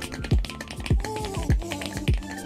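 Keys clack on a TechWare Phantom Elite keyboard at a desk, each stroke a close, crisp tap with a few deeper thocks in an even, unhurried rhythm.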